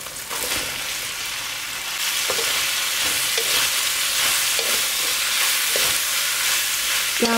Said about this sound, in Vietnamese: Các bạn đảo khoảng 2 phút với mức lửa lớn.